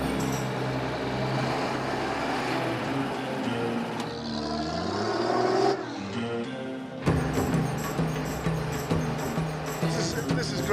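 An old truck engine rumbles steadily along a road in Iran with passengers riding in the open back, the drone loud and continuous with shifting gear tones and voices faintly mixed in.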